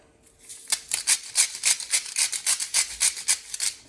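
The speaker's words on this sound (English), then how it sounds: "I'm just gonna use salt and pepper, both sides. Pat it on there." Hands patting and rubbing salt and pepper into a raw steak, a quick series of rhythmic soft slaps and rubs, about a dozen in under four seconds, close up and alone.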